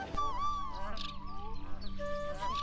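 Nasal, honking goose-like calls from several ruddy shelducks, overlapping and repeated at close range.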